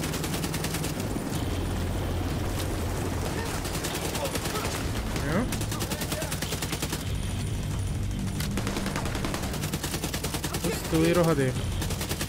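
Cannon fire in The Division 2 co-op play, a relentless rapid stream of heavy automatic shots with game combat noise, while players talk over it.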